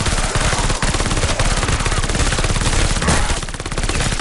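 Loud, continuous rapid automatic gunfire from a shooter video game, a dense unbroken stream of shots filling the whole stretch.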